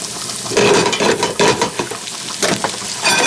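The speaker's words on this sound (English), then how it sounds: "we got our asparagus poaching on butter with our fresh herbs" Asparagus poaching in butter with fresh herbs in a pan, a loud, close, continuous sizzle with bursts of stirring and utensil scraping, no talking.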